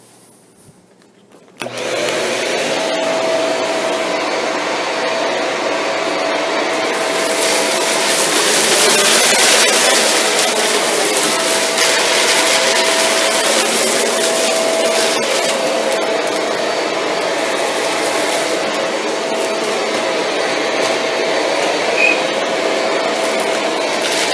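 A Shark Rotator Lift Away NV682 vacuum cleaner in hard-floor mode with the brush bar off switches on after a moment of quiet, then runs as a loud, steady whining roar with shifting airflow as it sucks up debris.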